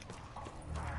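Hell pig creature in Call of Duty Zombies Gorod Krovi: a brief, close clattering and hoof-like scuffling over a dense game-noise background.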